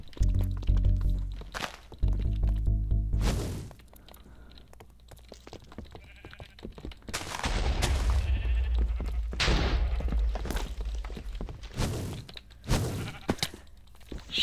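Sheep in the video game Minecraft bleat several times in loud, close bursts, mixed with game thumps and clicks and with some louder stretches of noise in between.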